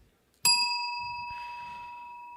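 A timing bell at a national-level debate competition gives a single bright ding that rings on and slowly fades in a quiet hall.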